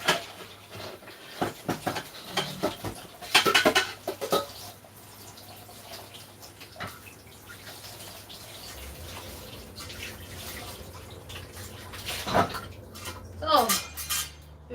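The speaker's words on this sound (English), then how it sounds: "let me wash this lid." A pot lid is washed under running tap water in a home kitchen, with loud clanks and knocks of metal against dishes and cutlery over a continuous stream of water, close and uneven.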